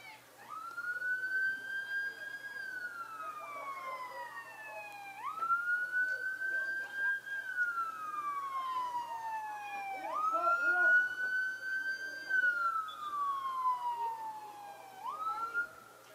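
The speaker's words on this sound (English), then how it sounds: "Ambulance sirens in the background, not coming here." Ambulance sirens wail in the distance during a women's college soccer match, a wavering siren rising and falling in repeated sweeps about every five seconds, with faint voices underneath.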